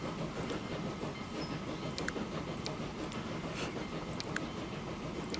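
Video-game train in Transport Fever 2 grinding up a steep slope, a steady low rumble of rolling cars with faint clicks and brief squeaks over the top.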